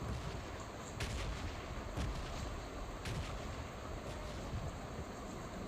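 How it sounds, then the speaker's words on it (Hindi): Gunfire in PUBG comes from ahead, a handful of dull, distant shots spaced about a second apart over a steady, windy background hiss. "आगे की तरफ से गोलियां चलने की आवाज़ आती है।"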